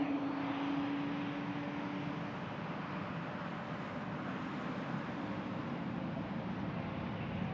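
An Airbus A321 airliner at Frankfurt Airport gives a steady, broad jet roar that holds at an even level throughout, with a brief engine whine early on and no talk.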